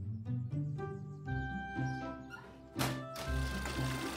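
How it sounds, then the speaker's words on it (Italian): A small dog yips and whimpers in short bursts over a low rumbling background, with a heavier thump near the end. "Abbaia, sta chiedendo aiuto."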